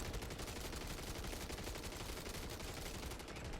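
Rapid, dense gunfire in Call of Duty MW3 Zombies, a continuous rattle of shots mixed with game noise, steady and fairly faint throughout.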